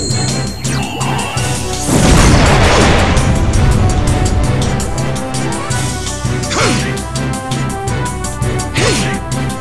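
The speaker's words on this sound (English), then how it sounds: "Cast explosion." Explosion spell in the video game Suikoden 4, with a loud crashing blast and whooshing bursts over a continuous backdrop of game music and effects.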